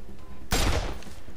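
A single loud, close gunshot blast in a video game ambush, sudden and broadband, fading into a short rumbling tail over steady background noise.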